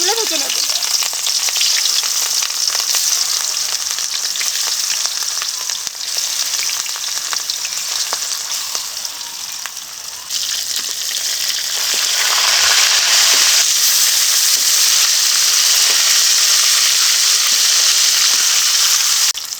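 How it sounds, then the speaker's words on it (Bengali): Rohu fish coated in salt and turmeric fry in hot mustard oil in a kadai, giving a loud, close, unbroken sizzle and crackle that holds steady for the whole stretch, swelling slightly near the end. "মাছগুলো ভাজা হয়ে গেছে এখন তুলে নেব"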